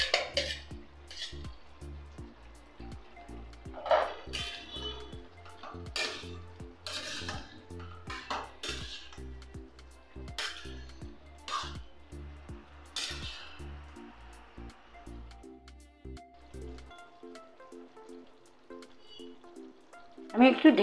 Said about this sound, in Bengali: এবার আমি এঁচোড়গুলো দিয়ে দিচ্ছি একসাথে কষানোর জন্য আলুর সাথে